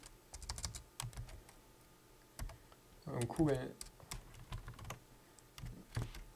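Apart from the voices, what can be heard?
typing on a computer keyboard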